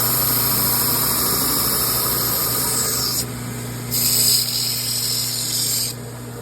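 A soft power sander squares off a workpiece corner with a loud, steady motor whine and buzzing grind, its pitch and level shifting briefly as pressure changes, no speech.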